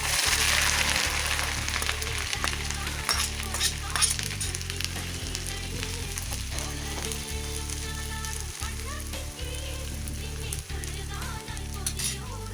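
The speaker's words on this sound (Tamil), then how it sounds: "இஞ்சியை போட்டு வறுத்துடலாம்" Chopped ginger frying in hot oil, a dense continuous sizzle with intermittent stirring scrapes and light metal clinks, close and steady throughout.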